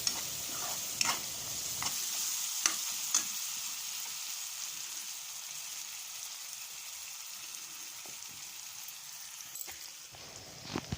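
Broad beans curry fries in a pan with a steady, soft sizzle, and a spoon stirs it now and then with a few scraping clinks. The cooking sounds close and fairly quiet, with no voices.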